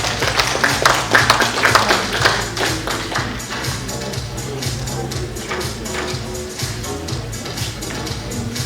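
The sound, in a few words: audience applause at award ceremony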